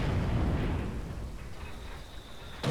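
Grenade explosions in the World War II strategy game Company of Heroes 2, on a Port of Hamburg map: a dense, continuous low rumbling blast that holds steady and then fades, with a brief sharp burst at the very end.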